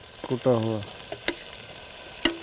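Crushed garlic and ginger start to fry in a pan, a short sizzle with a few scraping stirs, close by. A brief vocal tone sounds early on.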